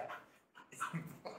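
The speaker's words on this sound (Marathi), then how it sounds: "कोणता डॉग आहे" A dog pants in quick, close, breathy bursts with a faint whimpering edge, brief and fairly quiet with no talking over it.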